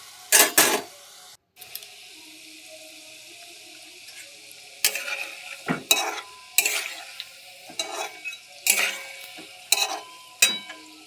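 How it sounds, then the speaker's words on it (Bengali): Mung pitha frying in oil in a home kitchen gives a faint sizzle beneath repeated sharp scraping and stirring clatters of a utensil in the pan, irregular bursts spread across the clip. "আর এটা লাস্টে ভাজছি।"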